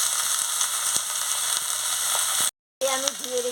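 Chopped vegetables, including pumpkin stems, hit hot oil in a pan for a curry, giving a steady close sizzle that cuts off briefly, then resumes with a faint voice over it.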